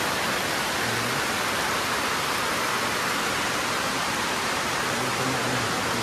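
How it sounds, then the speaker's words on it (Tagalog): Heavy rain pours over a community area near a basketball court, a constant, dense hiss of broadband noise with no breaks, steady and fairly loud throughout. "malakas naman po yung ulan"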